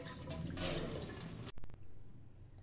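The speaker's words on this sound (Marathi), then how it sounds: "या प्रकारे चाळणीवर आपल्याला हे पाणी निथळवून घ्यायचं आहे" A loud rush of water drains through a sieve of soaked sorghum grain for a second and a half, then cuts off abruptly, leaving a few drips and quiet.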